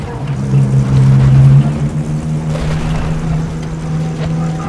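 A motorboat engine in Battlefield 4 drones with a steady low hum throughout, loud and close, with game noise layered over it.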